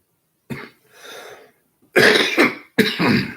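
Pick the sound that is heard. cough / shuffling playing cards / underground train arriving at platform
cough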